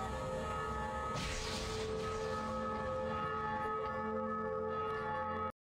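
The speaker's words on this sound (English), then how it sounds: "The bells of your funeral." Funeral bells toll in a GrimGrimoire OnceMore game trailer, a sustained, ringing bell tone hanging over a dark ambient background and cutting off abruptly at the end.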